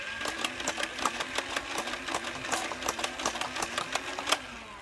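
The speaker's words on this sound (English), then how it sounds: "Firing test with Nerf Elite darts and a Nerf mag." An Air Warriors Ultra-Tek Cyclonic motorized blaster fires Nerf Elite darts from a Nerf magazine in rapid succession, a steady whirring flywheel hum punctuated by a dozen or more sharp, evenly spaced clacks, close and fairly loud.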